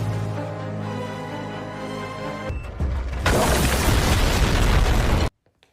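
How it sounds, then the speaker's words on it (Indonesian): A second bomb goes off in a Jakarta bombing story. A sustained tonal drone runs for a few seconds, then a loud, close blast of broad noise roars for about two seconds and cuts off sharply into silence. "Disusul bom kedua."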